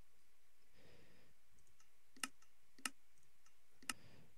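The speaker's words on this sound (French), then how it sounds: "Pour vous le prouver, je clique ici." A computer mouse clicks a few times while navigating Minecraft menus, sharp, crisp, close-up clicks spaced irregularly over a quiet background.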